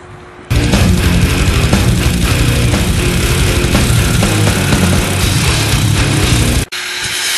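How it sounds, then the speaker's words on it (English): A 1979 Rupp mini bike with a 5 hp Briggs and Stratton engine starts up and runs loud and close, a steady buzzing roar that cuts off abruptly before briefly resuming. "1979 Rupp mini bike, 5 horsepower, Briggs and Stratton"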